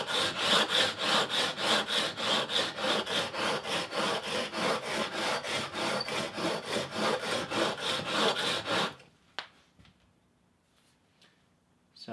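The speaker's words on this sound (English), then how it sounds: "I can kind of rock back and forth a little bit to get the primary bevel" A hand plane blade is honed to a 25 degree primary bevel, rocking back and forth in a steady, close rhythmic rasping of steel on stone that stops abruptly, followed by quiet taps.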